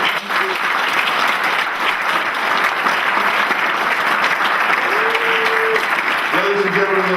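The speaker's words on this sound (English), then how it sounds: "Ladies and gentlemen, a round of applause, please, for Dr. Obianime." A crowd applauds loudly and continuously throughout, a dense wash of clapping with a few faint tonal sounds rising through it near the end.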